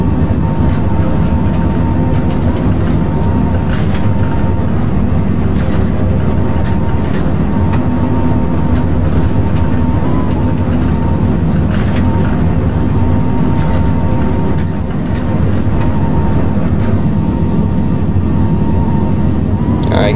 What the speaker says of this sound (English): So on takeoff roll now, the C5 is far down the runway, so we should be fine.